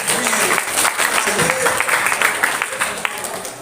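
Students at a school Ramadan lecture clapping in a dense, lively burst that gradually thins out, with some voices mixed into the applause.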